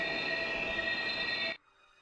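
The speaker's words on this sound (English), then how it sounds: "Sparks fly as the train slams on its brakes." A train's wheels squeal in a loud, steady metallic screech as it brakes in the video game Steins;Gate, then the sound cuts off abruptly, leaving near silence.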